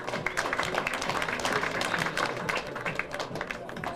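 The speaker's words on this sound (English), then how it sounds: "let's give this girl a big round of applause" An audience at a televised performing-arts show applauds a young woman, close, brisk clapping with a few cheers mixed in and some talk in the background.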